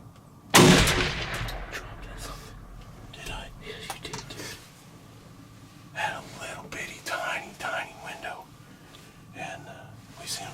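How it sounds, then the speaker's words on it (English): A hunting rifle fired from the shoulder at a big black animal in the woods, one loud sharp report near the start, followed by quiet rustling and hushed voices. "gun set on my shoulder real good, and I shot and popped my ball cap"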